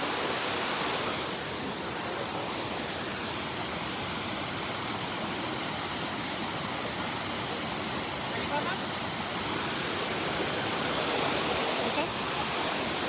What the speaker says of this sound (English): Wow, it looks like Niagara Falls.